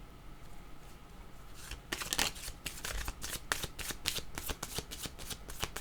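Tarot cards riffled and shuffled in crisp, rapid bursts that begin after a quiet opening and keep snapping steadily close to the listener, with no talking.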